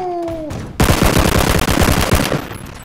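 Rifle fire in PUBG, a loud rapid automatic burst that starts suddenly after a short electronic tone and continues steadily for about two seconds.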